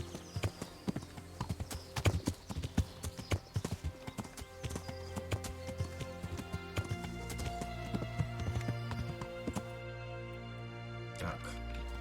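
Horse hooves clip-clopping at a steady gallop in the medieval world of Kingdom Come: Deliverance, close and rhythmic, with game music and ambience underneath and a brief whinny.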